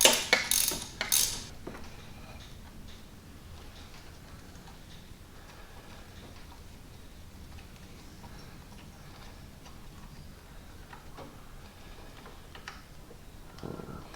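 Ratchet wrench working the bottom bolt of a coolant temperature sensor on a C5 Corvette, a quick burst of close clicking at the start, then quiet workshop background with faint scattered ticks.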